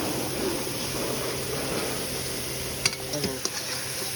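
Chili and garlic paste hitting hot oil in a pan of mutton masala, a steady low sizzle with stirring throughout and a few sharp clinks of a utensil against the pan toward the end.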